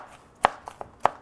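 A knife roughly chops a tomato on a cutting board: three or four sharp, uneven thuds spaced apart, close and clear, with no talking.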